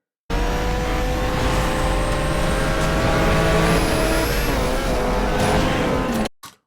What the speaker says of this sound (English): all of those engine sounds would be that much louder